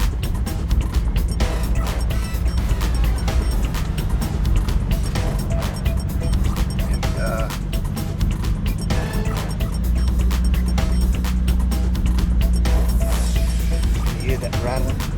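A car driving on gravel and dirt roads rattles and rumbles constantly, with a loud low road roar and frequent sharp clatters and knocks throughout, while a person talks over it.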